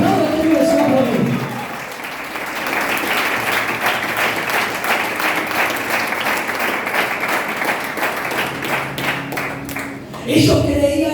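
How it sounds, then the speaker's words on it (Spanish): A church congregation claps steadily for about nine seconds, a dense wash of hand claps with voices mixed in at the start and end. "Aplaudan que vive Señor por mí."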